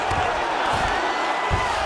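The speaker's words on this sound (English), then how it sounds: "crowd absolutely loving it as the fighters, however compromised, make their way back to the feet" A crowd roars steadily in the EA Sports UFC 5 arena during a Kleber Koike vs. Ren Hiramoto bout, a continuous wash of cheering with a few dull thuds underneath.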